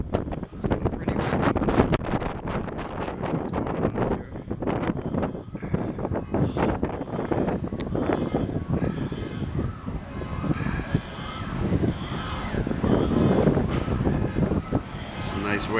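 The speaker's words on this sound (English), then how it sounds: "It's still pretty windy." Strong gusty wind the morning after Hurricane Irma, roaring and buffeting loudly and close for the whole stretch, with a voice speaking intermittently beneath it.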